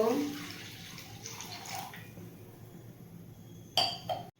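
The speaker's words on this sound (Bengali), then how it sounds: "এবার জল সবার প্রথমে কড়াইয়ের মধ্যে জল দিয়ে দেব" Water is poured into a kadai set on a gas stove, giving a splashing pour with metallic clinks, then a louder splash and clatter near the end.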